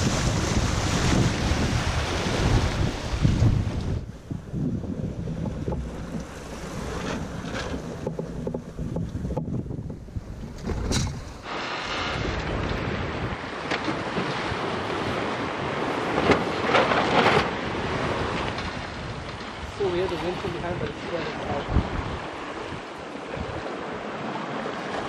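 A sailboat under way on the Sea of Cortez, with strong wind buffeting the microphone and waves and spray rushing past the hull, loud and continuous with no talking.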